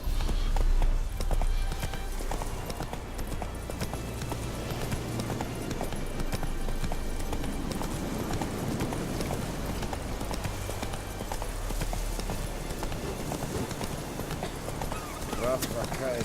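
Roach, the horse in The Witcher 3: Wild Hunt, trots along with steady rhythmic clip-clop hooves under continuous talk and background game music.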